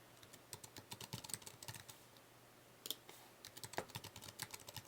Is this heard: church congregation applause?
no